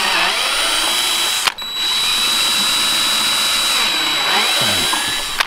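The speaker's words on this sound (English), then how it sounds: "we are drilling into the kit, into the Hellcat kit." A power drill bores into a Dodge Hellcat widebody body kit panel with a close, loud, continuous whine. It stops briefly twice, once near the start and once at the end.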